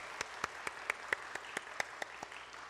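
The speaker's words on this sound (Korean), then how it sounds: "우리 박수로 한번 격려하겠습니다." A church congregation applauds the Hallelujah choir after a Sunday worship service. The clapping is light and sparse, with distinct hand claps landing in a slow, fairly even rhythm at moderate distance in a reverberant hall.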